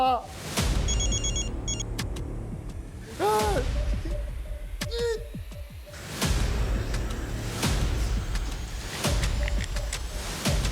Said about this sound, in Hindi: छत्ती फोन उठा यार